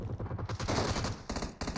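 Rapid automatic gunfire from a weak gun in an online shooter game, a loud, dense run of sharp cracks firing steadily with brief pauses near the end, no voices over it.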